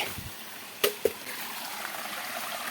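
Faint, steady wash of a small mountain stream flowing over rocks, with a couple of sharp splashes or knocks near the start and no talk.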